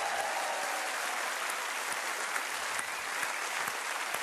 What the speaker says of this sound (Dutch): Geef een applaus voor een nieuw orkest.